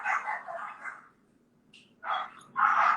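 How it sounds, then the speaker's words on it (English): Several dogs bark in uneven bursts at moderate distance, a run of yaps, a short lull, then louder barking again, with a faint yip between. "I'm sorry, I have a lot of dogs."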